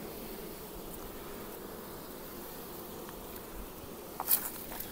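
Honeybees buzz steadily around old Langstroth hives, a continuous close hum with a brief louder rise near the end.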